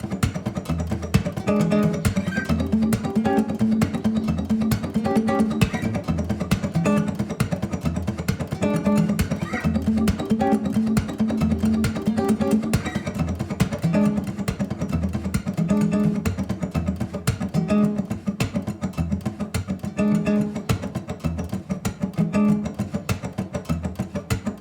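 A fingerpicked guitar plays a steady, rolling blues groove with a thumping bass line under the plucked chords, set against a constant noisy hiss.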